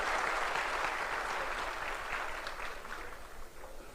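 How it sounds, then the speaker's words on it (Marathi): Crowd at a Devendra Fadnavis political rally in Maharashtra applauding, a dense sustained wash of many hands clapping at once that stays steady and loud, then thins slightly toward the end. "मी आपणा सगळ्यांना विनंती करेल की जोरदार टाळ्या वाजवून आपल्या देवेंद्र करावं"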